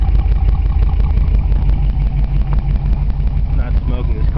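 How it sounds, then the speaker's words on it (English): A 1957 Ford Fairlane 500 with dual exhaust idling, heard up close as a loud, steady low rumble with a rhythmic throb that holds throughout. "Let's go listen to this exhaust back here."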